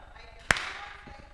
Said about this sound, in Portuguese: Uma salva de palmas para a Clésia